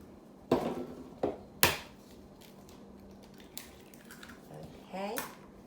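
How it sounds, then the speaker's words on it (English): Eggs cracked one after another into a separate small bowl while preparing stuffing for stuffed turkey chops, a few sharp close taps against the rim followed by soft wet drops and light clinks, quiet kitchen background. "you know I always crack my eggs separate"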